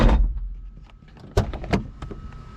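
A Nissan 300ZX car door is worked and tested: a sequence of sharp mechanical clunks and latch clicks, with one louder thump near the middle and smaller knocks after, close and alone without talk.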